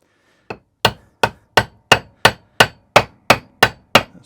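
Hammer taps a roller bearing into the roller of a Lawnflight 553 Pro Kaaz lawnmower, making eleven sharp, evenly spaced metallic knocks close by with no talking.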